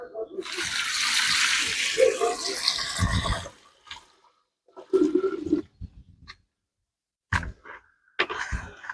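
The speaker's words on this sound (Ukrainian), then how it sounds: "Заливаємо вапно холодною водою." Cold water gushes and splashes loudly for about three seconds as it is poured onto lime, followed by quieter scattered knocks and shuffling sounds nearby.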